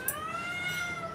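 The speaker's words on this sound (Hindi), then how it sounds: "देखो बिल्लियाँ म्याओ म्याओ करती है, ये माँ माँ करती है।" A kitten lets out a single drawn-out, high meow close by, clear and steady, in a quiet home setting.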